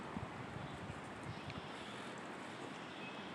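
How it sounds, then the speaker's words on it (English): Steady outdoor wind buffeting a microphone on a hot day, a continuous broadband roar with low rumbling gusts throughout, fairly even in level and without speech. "all this wind really sucks"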